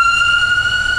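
An ambulance siren wails loud and close in a steady, sustained tone with no other sounds.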